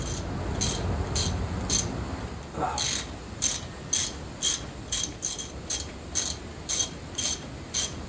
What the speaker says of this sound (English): This manifold is a 9/16. There's 6 bolts. I went through and removed all of them.